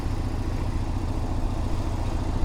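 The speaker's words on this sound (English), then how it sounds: "This new 4-cylinder Boxster engine has a very distinct sound." The 4-cylinder engine of a 2017 Porsche 718 Boxster runs with a steady, low, even drone, moderately quiet and unchanging throughout.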